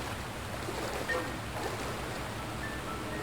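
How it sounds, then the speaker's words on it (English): Steady flowing water current in the sewers of the game Turok 3, a constant dense rushing wash with low rumble, even and unbroken throughout. "Water, current."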